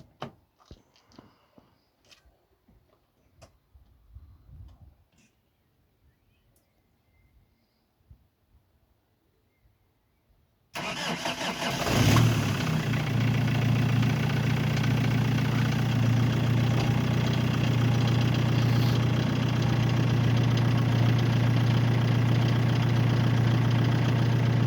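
After a stretch of faint clicks and handling noise, a BMW E46 320d diesel engine with its EGR deleted cranks and catches, then settles into a steady, loud, rumbling idle.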